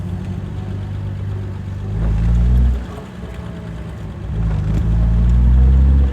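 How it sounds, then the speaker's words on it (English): Engine of a 1965 Jaguar XKE on the move, loud and close, rising through two strong revving surges with a dip between, no voices over it. "I'm driving around in a 65 XKE"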